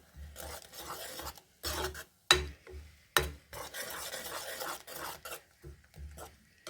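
Freshly grated coconut stirred into ghee in a pan while making jackfruit-seed laddu, a dry scraping rasp of spoon on metal in repeated bursts with short pauses between, close and moderately quiet.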